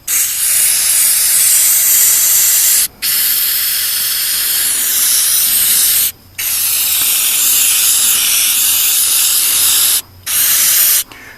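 A spray can sprays rust reformer onto the rusty floor of a 1978 El Camino in loud, steady hissing bursts, three long sprays broken by brief pauses and then a short final burst.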